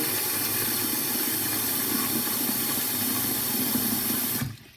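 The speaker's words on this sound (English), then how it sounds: "I'm going to add more water." Steady rushing stream of water poured or running into a container, loud and continuous for several seconds before cutting off abruptly near the end, with no talking.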